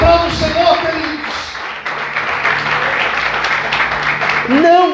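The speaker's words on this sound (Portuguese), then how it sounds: "Aplauda o Senhor, queridos." A church congregation claps steadily in a dense, sustained wash of applause during a sermon, with a preacher's voice heard briefly at the start and again at the end.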